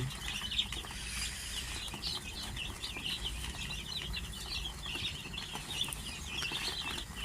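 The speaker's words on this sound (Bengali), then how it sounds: "মুরগি বাচ্চা," Chicks and hens in a straw-lined winter pen, a continuous chorus of high peeping and soft clucking with occasional wing flutters, moderately close and without speech.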